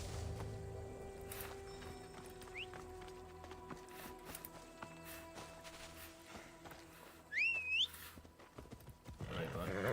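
A horse in the Assassin's Creed Odyssey video game, a brief whinny rising over soft hoof and footstep sounds, with game music and voices in the background.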